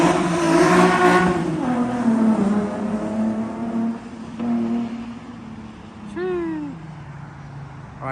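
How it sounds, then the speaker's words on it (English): A Nissan 350Z with an aftermarket exhaust doing a flyby, its loud engine note rising under acceleration and then dropping as the car passes and recedes, with a short high whine near the end. "Now it's Jason's turn to do a little flyby."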